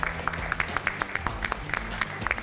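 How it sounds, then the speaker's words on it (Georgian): Audience applause welcoming a guest onto a television show stage: lively, rhythmic clapping from a crowd, close and continuous, with a low musical hum underneath and no speech. "ხურვალი აპლოდისმენტები"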